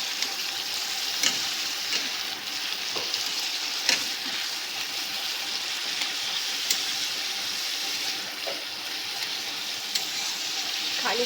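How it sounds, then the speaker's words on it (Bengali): Chopped vegetables fry in oil over ginger in a pan for a Maggi recipe, sending up a steady sizzle broken by periodic stirring clinks of a spatula. "এটা খানিকক্ষণ নাড়বো, ভাজা ভাজা করব।"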